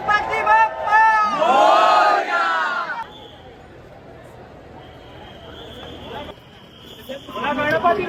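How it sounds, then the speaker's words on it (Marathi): A large crowd gathers for the Chintamani Ganesh arrival procession in Parel, with loud chanting and shouting in bursts at the start and end and a murmuring throng in between. "गर्दी लागली आहे, खूप गर्दी"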